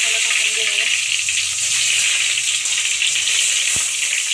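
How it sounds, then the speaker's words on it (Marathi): Eggs frying in hot oil in a pan for egg biryani masala, giving a loud, steady, close sizzle that runs throughout with no pauses. "मी सगळे अंडे फ्राय करून घ्यायचे"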